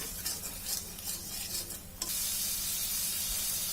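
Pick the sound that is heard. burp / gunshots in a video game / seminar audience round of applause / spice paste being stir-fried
spice paste being stir-fried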